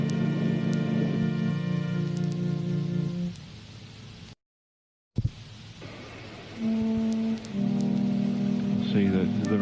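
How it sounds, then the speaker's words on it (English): Steady rain falls throughout, mixed with loud sustained droning tones, cutting out for a moment of near silence halfway before returning. "It's still raining."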